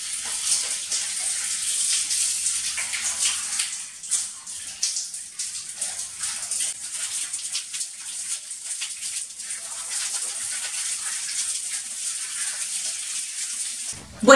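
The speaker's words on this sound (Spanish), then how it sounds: "Pasado este minuto vamos a enjuagar nuestras axilas," Running water splashes steadily while underarms are rinsed, a continuous broadband rush with small fluctuations through the whole stretch and a sharp knock at the very end; no talking.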